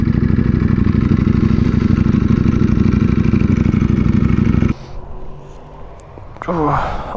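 An Aprilia motorcycle engine runs loudly and steadily close by for several seconds, then cuts off abruptly, leaving quieter background clatter and a brief rising sound near the end.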